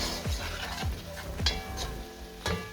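A spoon scrapes and knocks around a pot of beans and sausage stew frying over heat, with a few distinct stirring strokes over a steady low sizzle.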